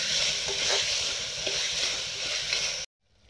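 Tomato pieces sizzle and fry in hot oil in a pan while paya curry is being made. The hiss is steady and close, with light stirring clatter, and it cuts off abruptly at the end.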